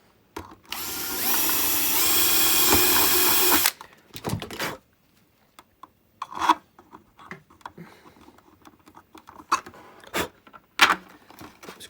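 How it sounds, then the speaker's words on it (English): A power drill whirs loudly for about three seconds as it bores a hole through a helmet shell, followed by scattered scrapes and handling clicks. "I'm going to drill my hole."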